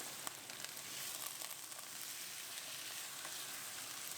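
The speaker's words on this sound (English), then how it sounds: "After a few minutes of cooking the onions and the meat together" Beef and onions sizzle in a pot for a Bangladeshi beef tehari, a steady, even crackle and hiss with a few faint stirring scrapes and no voices.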